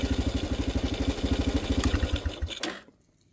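A small engine, likely a motorcycle, cranks and runs on a restored sealed lead-acid battery, chugging in a steady rapid rhythm for about two and a half seconds before cutting off into silence.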